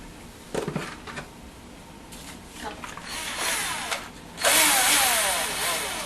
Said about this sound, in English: Okay, now we need to do some pre-drilling.